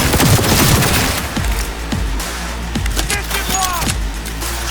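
Heavy gunfire and explosions in the Cyberpunk 2077 game, loud and continuous: rapid bursts and booming blasts pile over one another, with cracking shots and debris throughout.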